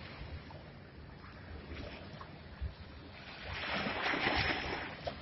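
Ocean waves washing up on a sandy beach at Newport Beach, a faint steady wash of surf with wind rumble and a swell of breaking water building toward the end, no talk.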